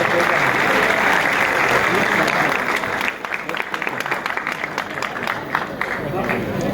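A mushaira crowd at a university applauds a poet with dense, loud clapping that thins after a few seconds into scattered individual claps.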